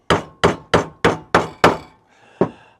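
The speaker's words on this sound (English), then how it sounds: "now I've got a 5/32 punch and a heavy ball peen hammer, so I can get through here" A heavy ball peen hammer drives a 5/32 punch through the metal of an RV bedroom slide, six sharp, evenly spaced strikes followed by a brief pause and one final blow, loud and close.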